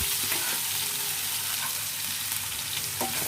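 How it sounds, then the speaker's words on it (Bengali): Ground turmeric, chili and coriander fry together with taki fish and radish in a pan, making a dense, steady sizzle with occasional stirring scrapes, close and continuous, with no voices. "এই মশলাগুলো সব কিছু একসাথে ভালো করে কষিয়ে নিতে হবে"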